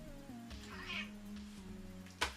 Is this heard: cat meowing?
yes